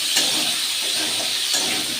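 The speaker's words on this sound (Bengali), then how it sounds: "কুমড়োটা যেহেতু ভালো কুমড়ো তো, একটুখানি লবণ দিয়ে ভেজে নেব" Pumpkin with a little salt frying in oil already used for shrimp, in a wok where it is sticking, giving a steady loud sizzling hiss throughout with a couple of brief stirring surges and no talk.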